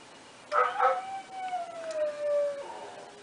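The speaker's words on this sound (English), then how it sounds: "Here's our dog." A pet dog howls at home, a drawn-out wavering howl that starts with a couple of sharp yelping rises, then slides slowly downward and ends with a shorter lower note, close and clear over quiet background.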